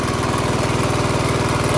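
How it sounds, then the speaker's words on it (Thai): A 6.5 horsepower gasoline engine drives a water pump, chugging in a steady, fast, even rhythm at close range, loud and continuous with no talking. "เครื่องยนต์เบนซินนะครับเครื่องยนต์เบนซินนะครับประหยัดน้ำมันอยู่นะครับ"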